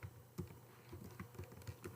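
Someone types on a computer keyboard while entering product names into an Excel spreadsheet, a quiet, close, irregular patter of key clicks with no talking.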